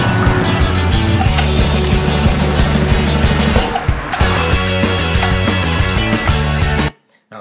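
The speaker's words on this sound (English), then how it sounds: "exactly at that point of the song it drops in with the bass drum" Loud, dense song bed from a skateboard video edit, with a driving bass drum pulse; the mix briefly dips then drops back in hard before cutting to silence at the end.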